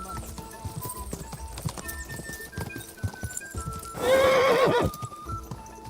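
Horse hooves clop at a steady pace in Kingdom Come: Deliverance II, then a loud neigh rings out for about a second before the trotting resumes.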